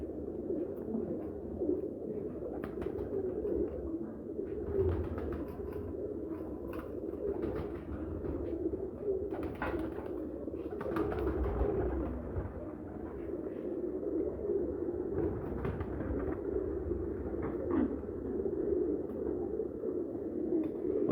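Breeding pigeons coo softly and repeatedly in a low, throaty murmur, with several birds calling over one another against a quiet room background.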